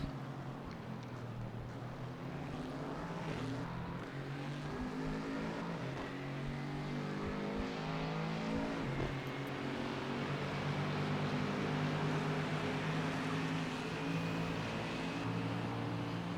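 Race car engines drone steadily through a lap of Laguna Seca in a GT4 racing video game, several cars close together with layered, shifting engine tones that hold loud and continuous throughout.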